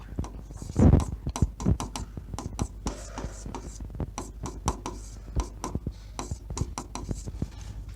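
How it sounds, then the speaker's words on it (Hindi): A pen moves across paper as an equation for n-loop network analysis is written by hand, giving close, irregular scratchy strokes and taps with occasional louder knocks. "अब मैं डायरेक्टली यहाँ पे इक्वेशन लिखने जा रहा हूँ"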